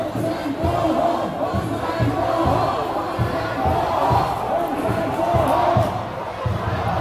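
A dense crowd of protesters at an overseas Vietnamese community demonstration shouts and chants together, a loud, continuous roar with rhythmic thumping beats running steadily throughout.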